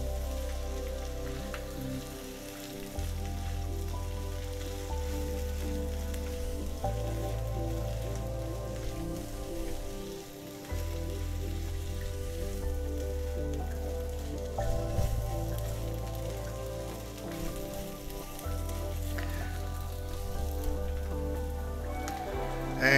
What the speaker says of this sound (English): the onions has become translucent and it's time to add the tofu